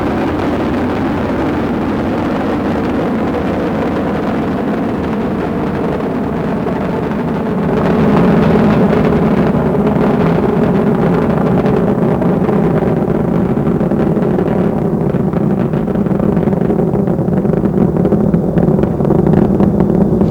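Space Shuttle Discovery's engines roar during the STS-102 launch, a deep broad rumble heard from afar that swells louder midway and keeps thundering steadily, with no voices over it.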